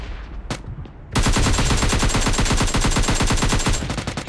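Rapid automatic gunfire from a shooting video game erupts after a quiet second, a dense, loud burst of repeated shots continuing steadily to the end, with one earlier isolated shot.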